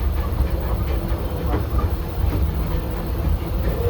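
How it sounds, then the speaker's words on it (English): Disneyland Railroad steam train, an excursion pulled by the C.K. Holliday, running steadily on its rails with a continuous low rumble and faint rhythmic clatter, heard from aboard, with no talk. "Welcome aboard the Disneyland Railroad."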